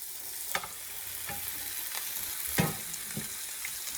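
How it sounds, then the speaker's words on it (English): Cut squash fries in oil in a big fry pan, giving a continuous soft sizzle. A few sharp clinks and stirring knocks break through, one louder than the rest. "we're going to add a little bit of oil on a big fry pan, and we're going to add the squash in it"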